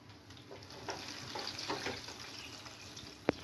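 Hot frying oil drips off freshly fried eggplant, a faint wet patter and soft sizzle with a single sharp tap near the end.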